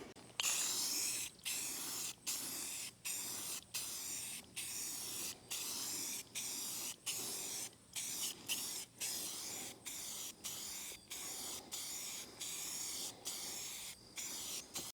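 Repeated short bursts of white spray paint hissing from a can, each a second or so long with brief pauses between, close and steady for the whole stretch.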